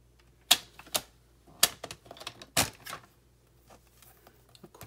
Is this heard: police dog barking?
no